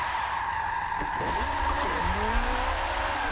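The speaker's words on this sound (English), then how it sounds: "a little jump drift" Tires skidding and squealing as a car slides through a jump drift in Forza 7, the engine revving underneath a loud, wavering screech that rises and falls, with no talking.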